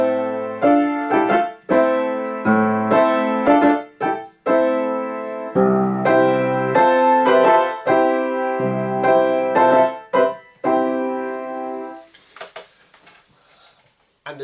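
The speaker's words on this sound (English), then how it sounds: "the orchestra attempts to take control by announcing the first proper tune, or the first subject" An orchestra plays the first subject of Grieg's Piano Concerto, a tonal melody in distinct phrases that fades into quiet near the end, with no talking.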